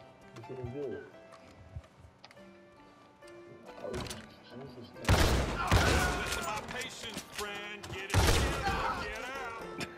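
Gunshots aimed at deer in the video game Red Dead Redemption 2, with several loud, sharp bursts between quieter game sounds and horse hooves, while someone talks over them.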